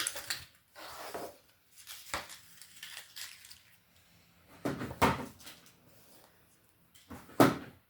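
Folded paper for a square compartment box has its creases pressed in by hand, giving scattered crinkling and soft sharp creasing bursts close by with quiet pauses between them.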